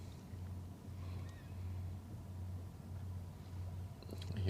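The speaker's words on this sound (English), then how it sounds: "I hear the engine revving all the way here." A low, steady engine drone rumbles from a barge on the Westerschelde waterway, fairly distant, with wind noise over it.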